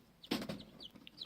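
Americana hens clucking at a backyard flock, a few short, soft, close clucks and squawks spread across about a second, with no talk.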